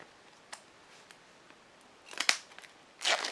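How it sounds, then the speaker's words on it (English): Clear plastic shrink wrap is peeled and torn off a hardcover Moleskine Classic Notebook, faint crinkles building into two close, crackling bursts of rustling film. "peeling open the clear shrink wrap"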